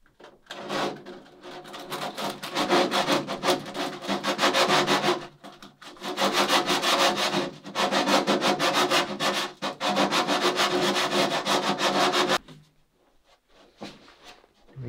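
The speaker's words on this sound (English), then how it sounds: "Gotta clean up my hole a little bit with some sandpaper." Sandpaper scrubs out a hole in a part for an International 2.4mR sailboat, in rapid back-and-forth strokes across three long bursts separated by short pauses. The scraping is close and steady, with no talk.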